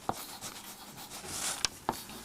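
Chalk or marker writing on a board in a lecture hall, faint scratchy strokes with a few sharp taps, quiet and close.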